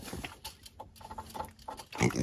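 A baby piglet grunts and oinks in short, snuffling bursts close by, with a louder cluster of grunts toward the end, all without speech.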